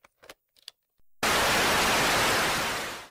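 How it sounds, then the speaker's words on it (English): Faint clicks and rustles, then a sudden loud burst of broadband white noise from a tape played through speakers, holding steady for about two seconds before cutting off. "abrupt white noise blasted from the speakers"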